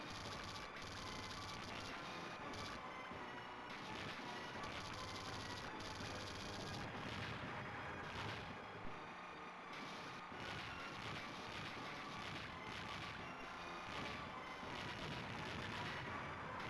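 Bombs burst again and again amid constant shooting in the DonPachi arcade shoot-'em-up, a dense, loud, unbroken wall of game explosions and gunfire that never lets up.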